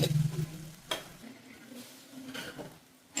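A spatula scrapes and stirs food sautéing in a pan as turmeric powder is mixed in, with a faint sizzle under a few sharp utensil clinks.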